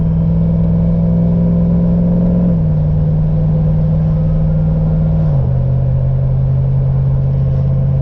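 A turbocharged LS-swapped Nissan 240SX with a 4L80E automatic cruises in overdrive near 60 mph and about 2,000 RPM. Its steady, loud engine drone holds a constant note and dips slightly in pitch twice as it settles.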